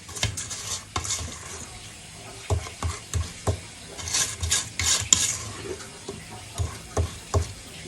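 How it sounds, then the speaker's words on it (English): Peanut butter cookie batter whisked in a bowl, a run of uneven clinking taps and scraping strokes against the bowl, close and fairly loud, with short pauses between bursts and no talking. "give it a little whisk"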